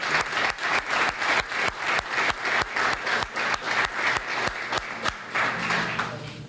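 Applause for supporters at a 1991 high school girls softball ceremony. It comes as steady, rhythmic clapping from a modest crowd, close and even, with no talk over it.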